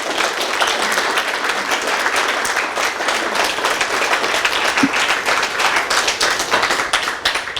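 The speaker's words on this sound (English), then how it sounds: "So I want a separate applause for him first." Loud, dense audience applause at a book launch in Manchester, UK, many hands clapping steadily and close for several seconds, with no talking over it.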